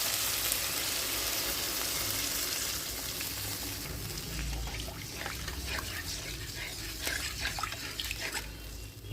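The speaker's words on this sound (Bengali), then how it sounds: "এবার দেবো জল" Water goes into a hot cooking pot holding capsicum and spices, a loud hissing rush and sizzle that fades into softer bubbling and crackles, close up.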